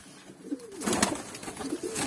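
Pigeons cooing nearby, several soft rolling coos in a row, with a brief wing flutter or handling noise partway through.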